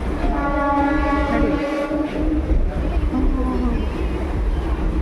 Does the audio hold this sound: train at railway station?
yes